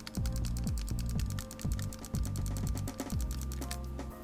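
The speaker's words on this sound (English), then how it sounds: "you can hear the solenoid clicking." A Proto Reflex Rail paintball marker's solenoid clicks in quick repeated bursts, sharp close mechanical ticks in irregular groups with a low rattling buzz between them.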